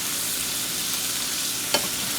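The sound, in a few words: vegetables and cooked meat frying in a pan on medium heat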